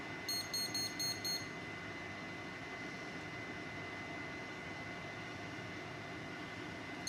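Kitchen timer beeping while sheet pan burgers cook, a quick run of about five high electronic beeps at the start, then only steady background hum.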